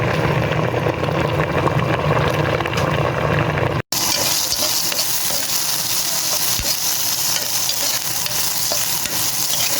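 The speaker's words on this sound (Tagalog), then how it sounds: "Ayan, kumukulo na siya at malapit na siya maluto" A steady sizzling, bubbling sound of a pot of milkfish and vegetables boiling fills the whole clip, with faint clinks of utensils; a brief cut interrupts it partway through.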